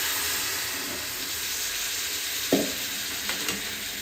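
Milk poured into a hot pan of sweet potato sheera sets off a steady hissing sizzle, with a brief splash and a few soft stirring knocks near the end.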